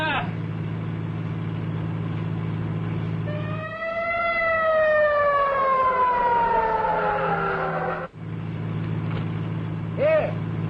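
A siren from a 1938-era emergency vehicle, taken to be an ambulance, winds up and wails in a long rising and falling tone over a steady engine hum, fairly close and loud, with a brief dip and a second rising swell near the end.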